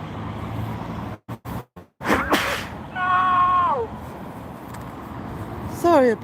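A person sneezes loudly once, a sudden sharp burst after a couple of brief breaths, out in a Gloucester bus and train setting, followed by a short tonal horn-like wail and more brief noises.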